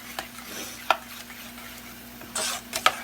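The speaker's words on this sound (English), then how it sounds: "scrape the bottom of your pan because grits really want to stick" Creamy grits made with regular milk are stirred in a pan, the spoon scraping the bottom in a few sharp, separate strokes over a soft, low simmer, with no one talking.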